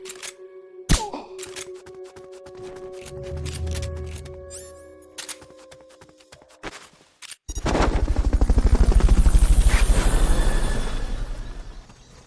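Fulton recovery helicopter in the video game Metal Gear Solid Peace Walker, a loud rotor roar with a fast chopping beat that swells in and fades after a stretch of game effects and mechanical clicks.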